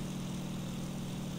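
Steady drone of a WWII fighter plane's propeller engine in IL-2 Sturmovik, a continuous loud, even hum with no breaks and no voices.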